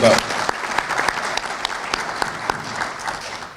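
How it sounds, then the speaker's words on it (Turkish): An audience at a public meeting applauds a director with a steady round of clapping, individual claps standing out as sharp, moderately loud hits throughout. "Ben Tramil Müdürümüze bir alkış rica ediyorum sizlerden."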